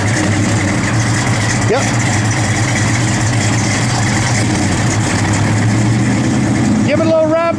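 A 1973 Plymouth Road Runner idles nearby with a steady low rumble throughout, while a voice speaks briefly over the engine.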